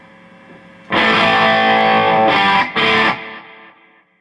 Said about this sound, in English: And then some reverb with the delay.